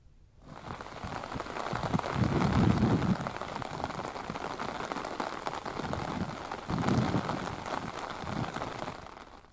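Heavy rain falls during Cyclone Phethai, a dense, continuous hiss of downpour that swells and eases with low rumbling gusts across the whole stretch, with no voices.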